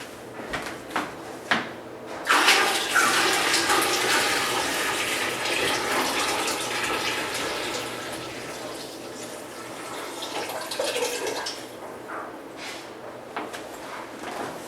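Tap water pours steadily into a canner being filled for canning pineapple, a broad hissing rush lasting about ten seconds after a few clunks, then fading as the flow eases; no talk.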